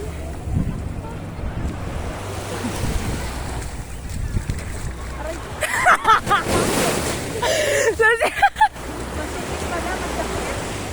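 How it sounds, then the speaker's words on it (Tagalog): Sea waves at San Juan, Batangas wash in steadily under heavy wind buffeting on the microphone, with a few louder splashing bursts near the end. "Dagat."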